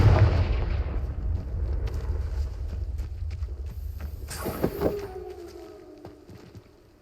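A Confringo blasting spell bursts in Hogwarts Legacy: a loud, broad explosive whoosh and crack dies away into a fading rumble, over steady game ambience with faint footstep-like clatter.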